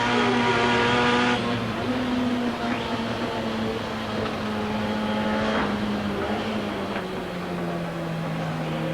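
Touring race cars at Amaroo Park climb the hill, engines droning steadily with pitch shifting as they pass at moderate distance, one car's note sliding down near the end.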